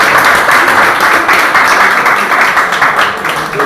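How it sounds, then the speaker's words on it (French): Loud, sustained applause from a crowd at a golf academy awards ceremony for the first-place winners, a thick wash of many hands clapping close by, tapering slightly toward the end. "Applaudissez quand même pour les premiers."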